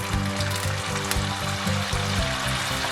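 Cauliflower for Gobi Manchurian fries in hot oil with a steady, loud crackling sizzle throughout, over a low rhythmic hum.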